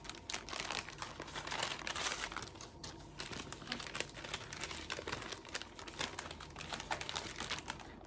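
A plastic package holding rose-scented foot-peeling booties is crinkled and crackled close up, with dense, continuous rustling and sharp crackles across the whole stretch and no voices.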